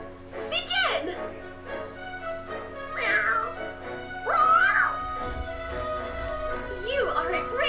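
A cat meows four or five times in drawn-out, wavering calls spaced about a second apart, close and clear over a faint steady hum.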